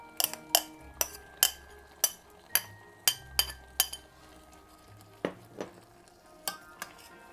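A spoon clinks sharply against the sides of a pot while Malabar avial is gently stirred, about a dozen distinct taps in an uneven rhythm over a low simmer, close and clear with no talking.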